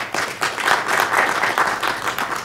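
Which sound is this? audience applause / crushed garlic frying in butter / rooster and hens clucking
audience applause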